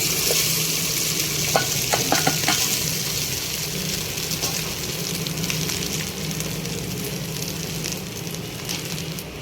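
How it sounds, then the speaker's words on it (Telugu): Leftover rice is stirred and fried in a pan for tempered rice, a continuous close sizzle broken by scraping stirs and brief clinks of a utensil, with no talking. "ముద్దలు లేకుండా అన్నం మంచిగా పొడి పొడిగా తీసుకొని ఈ అన్నం అందులో వేసుకోవాలి"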